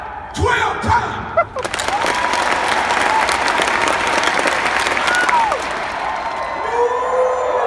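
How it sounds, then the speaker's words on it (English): An audience at an annual convention claps in a burst of loud, rhythmic applause mixed with cheers and whoops, starting after a few scattered claps and continuing steadily. "Clap 12 times."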